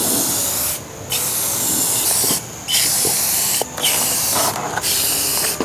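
An aerosol spray can lays clear coat onto a motorcycle helmet in several long, close, steady hissing bursts separated by short pauses, with no talk.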